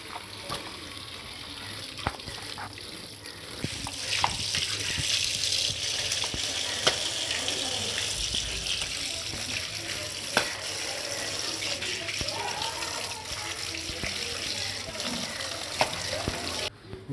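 Tap water runs steadily over freshly caught silver carp being washed in a sink, making a continuous close splashing hiss that lasts throughout with small knocks and clatters.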